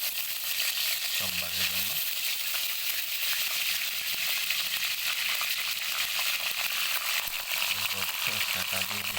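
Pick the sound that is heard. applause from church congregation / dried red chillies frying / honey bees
dried red chillies frying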